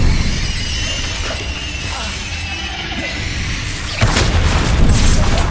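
A Confringo blasting spell explodes in the Hogwarts Legacy video game, heard as a continuous loud rumbling blast with crackling debris and a sharper burst near the end, with no voices.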